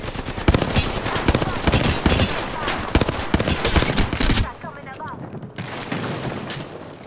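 Dense automatic gunfire in the battle royale shooter Apex Legends: a sustained barrage of rapid shots for several seconds, a brief lull, then more firing, with voices talking over the action.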